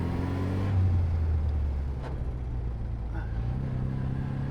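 A classic Austin Healey 100 M engine drones steadily while driving, a low rumbling note with some road and wind noise, easing slightly partway through before settling again.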